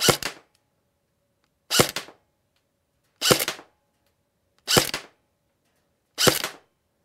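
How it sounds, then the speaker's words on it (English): A G&G Combat Machine R16 airsoft electric rifle fires five sharp single shots at an accuracy target. The shots are evenly spaced about a second and a half apart, crisp and close, with silence between them. "Some good shooting there, Barry."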